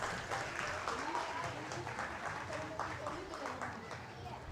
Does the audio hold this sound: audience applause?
yes